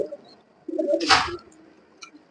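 A pigeon of a fancy loft breed gives a single soft, throaty coo, close and clear, with faint bird chirps around it in a quiet pigeon loft.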